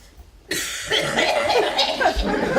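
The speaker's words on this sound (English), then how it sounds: "the coughing was spectacular" A harsh burst of coughing breaks out suddenly after a quiet start at a holiday comedy show. It is loud and close and carries on with raspy, laughing breaths.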